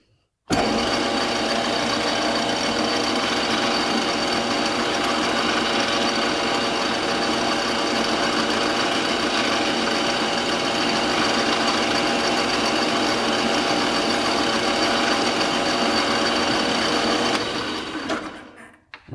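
A metal lathe roughing in bushings for milling machine handles runs with a steady, dense mechanical whir from start to finish, loud and close, with no talking, then winds down at the very end.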